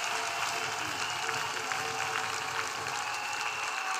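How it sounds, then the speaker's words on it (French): A church congregation claps steadily and densely throughout, with a continuous, even roar of applause mixed with crowd noise. "Clap louder than this."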